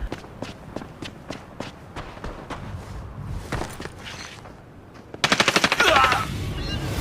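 Sharp gunshots ring out in the shooter game Arena Breakout on the Northridge map, some attributed to a sniper rifle: a run of loud, evenly spaced reports, then a denser, brighter burst of rapid fire near the end.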